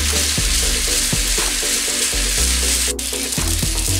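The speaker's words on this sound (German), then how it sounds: "In die heiße Pfanne packe ich jetzt unsere Nudeln rein, damit die den restlichen Aroma mitnehmen können." Noodles tossed into a hot pan with pork and leftover flavours, sizzling steadily and loudly up close, with repeated stirring or scraping knocks every second or so.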